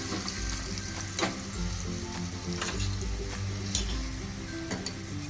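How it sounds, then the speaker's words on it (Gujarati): A spice tempering with asafoetida sizzles and crackles in hot ghee for Gujarati kadhi, a continuous close frying hiss with sharp pops, a low hum and occasional stirring clinks. "આ વઘાર એકદમ આપણો રેડી થઈ જાય તતડી જાય"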